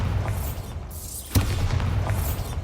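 In Hogwarts Legacy, a Bombarda spell goes off with one sharp blast partway through, over a steady low rumble of game ambience and soft magical whooshes.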